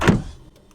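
A short metallic rattling clunk from the door handles of a 2024 Toyota C-HR Hybrid as it is put in gear, quickly fading into quiet.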